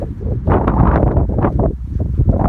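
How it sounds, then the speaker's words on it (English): Strong, gusty wind on a cold mountain ridge in the Appalachian Roan Highlands roars steadily against the microphone, buffeting loudly throughout with no voices. "It's windy and cold"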